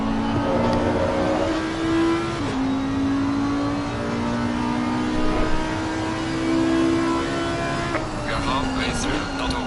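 Onboard engine of an Audi R8 GT4 race car at Zandvoort in Assetto Corsa Competizione, a loud continuous drone with pitch climbing, dropping at gear shifts and rising again, plus a brief louder burst of engine roar near the end.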